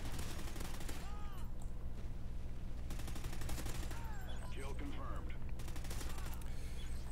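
Bursts of automatic fire from a Honey Badger rifle in Call of Duty Ghosts, loud repeated volleys spread across the moment with brief gaps, over a steady low game rumble and voices in the background.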